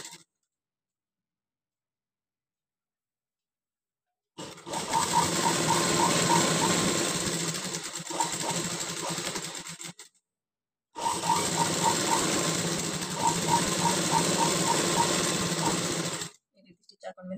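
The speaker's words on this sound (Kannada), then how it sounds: "1/2 ಇಂಚ್ ಮಾರ್ಜಿನ್ಗೆ ಸ್ಟಿಚ್ ಹಾಕ್ತೀವಿ" Fabric is stitched at a half-inch margin on a sewing machine running in two long, loud, close runs of about six seconds each, separated by a brief silence, with a rhythmic mechanical chatter.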